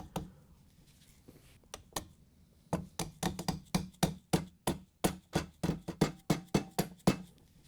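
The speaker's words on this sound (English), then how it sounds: "Then we can carefully tap it on with a rubber mallet." A rubber mallet taps a trim ring onto a KitchenAid stand mixer, a few scattered knocks followed by a steady run of about twenty close, evenly spaced thuds.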